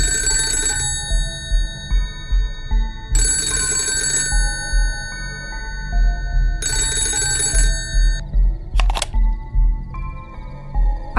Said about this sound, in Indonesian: Lalu telepon di mejaku berdering.